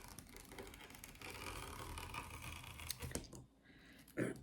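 Scissors or a rotary cutter slice through decorative wreath mesh laid on a cutting mat, a steady rustling, crinkling cut lasting several seconds, close and moderately loud, ending with a brief sharper snip.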